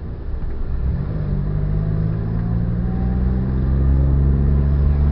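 An old car engine without air conditioning runs at a steady idle, producing a continuous low rumble with a faint hum that rises slightly toward the end, close and alone with no talking.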